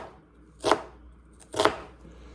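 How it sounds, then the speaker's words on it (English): Two crisp knife chops through an onion on a cutting board, spaced about a second apart, each a sharp, close thud against a quiet kitchen background. "we are gonna cut this up in a way where it's not diced, but just enough where you got that C shape of an onion"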